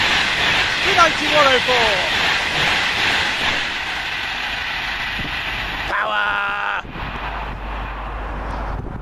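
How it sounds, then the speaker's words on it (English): Train 1A28 from Manchester Piccadilly to London Euston passes at Kings Langley with a steady loud rushing roar. A brief squealing tone sounds near the end, and people talk over it. "Next up, 1A28 off Manchester Piccadilly going to London Euston"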